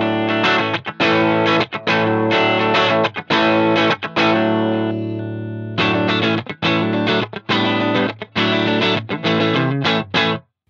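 Clean electric guitar through an Axe-Fx III amp modeler with a Fender Tweed model and a 1x12 Alnico cab, strummed with a bright, full tone, steady chord hits with short gaps, loud and close with no voices.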